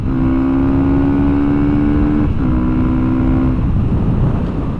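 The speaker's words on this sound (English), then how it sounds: "You really do have to be willing to rev this engine out a bit to get the power out of it." Big bore Honda CRF300L dual sport motorcycle engine held at high revs in fifth gear, a loud steady drone with wind rush, and a brief dip in pitch partway through before the steady drone resumes.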